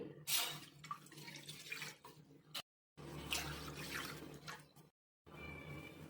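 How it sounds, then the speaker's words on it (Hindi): Water poured from a glass into a kadhai on a gas stove for boiling moth beans, splashing and trickling in a few short bursts separated by brief silences. "2 गिलास पानी डाल देंगे।"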